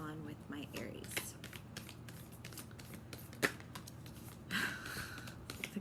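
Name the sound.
shuffling tarot cards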